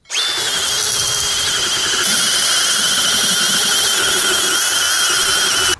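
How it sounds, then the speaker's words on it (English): An angle grinder with a grinding disc strips paint from a steel bucket, giving a loud, continuous high whine and grinding roar for the whole stretch, close and steady, with no talking. "I rather use a regular grinding disc and then follow up with a flap disc"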